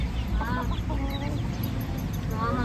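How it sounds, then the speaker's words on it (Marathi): Kadaknath hens cluck in short repeated bursts over a steady low background rumble, several birds nearby calling on and off. "कडकनाथ कोंबडी आहे"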